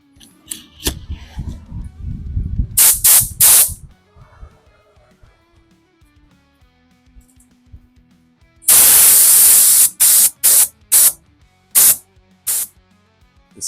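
Short bursts of spray paint hiss onto Volkswagen Bug bodywork near a corner, with a long loud burst followed by several quick sharp squirts, preceded by softer handling noises.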